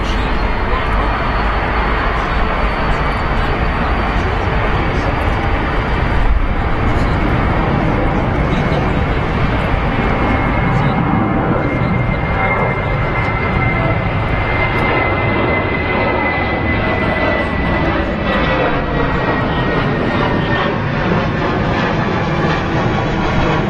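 A United Airlines jet airliner, flight 949, roars loudly and continuously at London Heathrow, a dense, sustained engine rumble and whine lasting throughout with a slowly shifting pitch.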